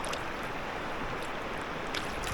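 River water churning and trickling at close range as a steelhead is let go back into the current, a steady gentle wash of flowing water with a few small splashes and no speech.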